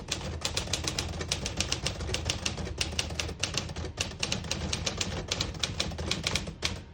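A 1950 Smith-Corona Silent portable typewriter clacks in fast, steady keystrokes, close and crisp, with rapid bursts of typing continuing throughout and no talking.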